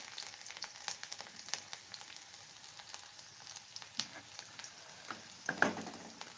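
Chopped garlic frying in a cumin tempering for a Maharashtrian Bhogi vegetable dish, giving a steady close sizzle with scattered crackling pops and a couple of sharper spits near the end, no voices.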